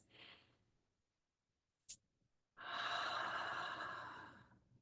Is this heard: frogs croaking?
no